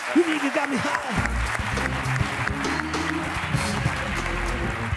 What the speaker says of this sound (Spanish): Un aplauso para Jorge Ponte, por favor.